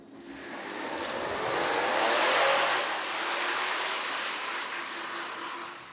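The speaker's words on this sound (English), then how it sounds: "there is this 400 horsepower twin turbocharged V6 under the hood that is an absolute" A 2026 Ford Explorer Tremor's 400 hp twin-turbocharged V6 revs with a broad, raspy roar that swells to a peak mid-way, then holds a steady, loud drone.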